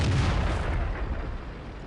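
Tank gunfire in the World of Tanks video game with a Leopard 1, a single heavy boom rolling into a long rumbling decay, loud and alone.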